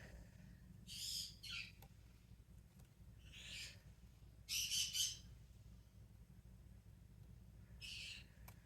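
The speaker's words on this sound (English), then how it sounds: "That's my bird in there having a fit." A pet bird squawks loudly from another room, letting out repeated harsh bursts of calls in uneven clusters over faint background noise.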